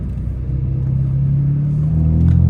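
A BMW M4 F82 driving in Sport Plus mode, giving a steady, loud, low engine rumble that swells slightly toward the end.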